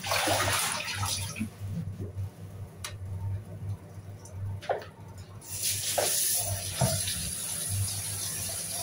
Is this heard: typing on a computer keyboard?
no